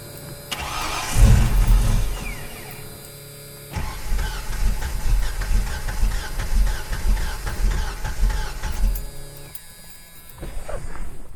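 A 1982 Ford Mustang GT cranks on ether starting fluid and catches, its V8 coughing and surging loudly up close, dropping back, then cranking and rumbling again in uneven bursts.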